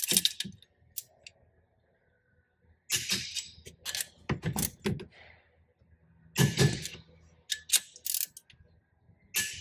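A ratchet wrench torquing the cylinder head bolts on a Honda Talon engine during a rebuild gives short bursts of rapid, close mechanical clicking, separated by quiet pauses as each bolt is worked in turn.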